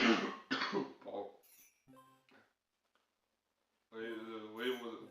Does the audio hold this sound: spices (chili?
no